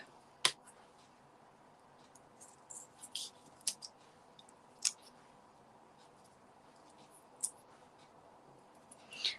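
Sharp scissor snips trimming a papercraft piggy topper for a birthday card, a handful of crisp isolated cuts spaced irregularly over a quiet room background.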